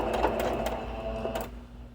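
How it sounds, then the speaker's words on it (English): A sewing machine runs briefly while stitching a fabric sunglasses case at a quarter-inch seam, giving a short, close mechanical whir with quick rhythmic ticks. "Going to start sewing"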